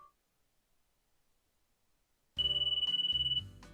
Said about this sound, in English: A cell phone begins to ring.